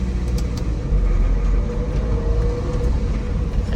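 A Spyder car idling with a worn, rattly transmission, giving a steady low rumble and faint clatter that continue without a break.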